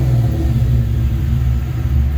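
A Ford Coyote swap engine revs loudly and steadily as the gas is pressed, a continuous close-up rumble with no pauses.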